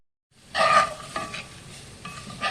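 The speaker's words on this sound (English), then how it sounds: "saute those in there for about 10 minutes. Stir them around." Sliced onions sauté in a pan for Salisbury steak gravy, with a few loud scraping, sizzling bursts of stirring close by and quieter sizzle in the pauses.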